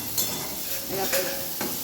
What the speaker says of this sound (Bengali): এদিকে উচ্ছে ভাজা হচ্ছে